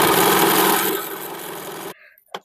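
A sewing machine runs a steady, loud mechanical whir while stitching the side seams of a suit made from an old saree, then stops abruptly, followed by a faint click.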